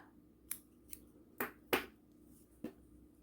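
Scissors snip crochet yarn in a handful of quick, crisp cuts, close and isolated against a quiet room, with irregular spacing between the clicks.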